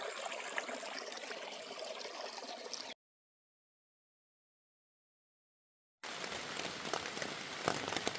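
Steady rain pattering on a campsite along the Appalachian Trail in North Carolina, a dense hiss of drops that breaks off into silence for a few seconds, then resumes.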